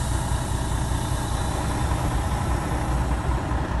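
A Class A tractor-trailer truck engine idles steadily nearby, a loud, constant low rumble with no other sounds.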